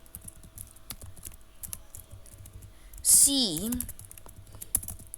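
Computer keyboard keys are tapped in quick, irregular clicks as JavaScript code is typed, broken by a brief spoken word in the middle.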